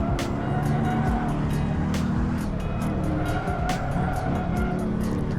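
A Porsche is driven fast on a bumpy race track, with a loud, continuous engine roar, road and wind noise, and intermittent tire squeal from close inside the car.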